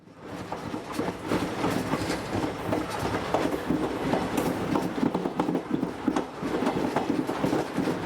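Texas State Railroad locomotive number 300 rumbling out of a siding onto the main line, loud and close, with rhythmic wheel clatter and occasional metallic squeal, no talking.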